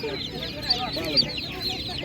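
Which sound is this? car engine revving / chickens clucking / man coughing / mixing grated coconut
chickens clucking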